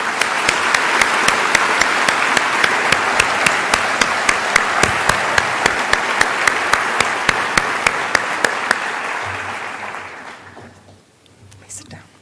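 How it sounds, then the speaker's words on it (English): A large audience at the UW School of Medicine's White Coat Investiture and honor society induction ceremony applauds steadily in a dense, sustained round of clapping that tapers off near the end. "Please join me in applauding this remarkable group of individuals."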